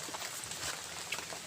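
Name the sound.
rain falling on a mountain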